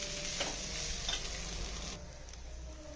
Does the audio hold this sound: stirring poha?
yes